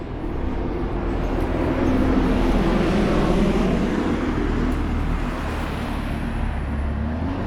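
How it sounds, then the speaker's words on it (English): Street traffic in Chelsea, London, passing vehicles forming a continuous low rumble that swells as cars go by and eases off, heard up close without talk. "Back to the traffic."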